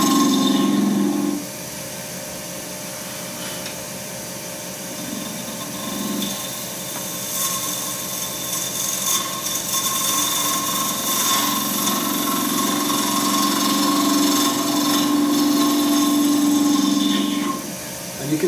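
A hard polyester resin blank turned on a lathe to make a shaving brush handle, heard as a steady whirring motor hum with rough, grinding cutting passes that come and go as the tool meets the spinning blank.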